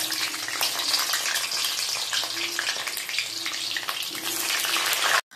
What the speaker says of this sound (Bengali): কড়াইয়ের মধ্যে তেল বসিয়ে দিয়েছি, আর আলুটা ভেজে নেব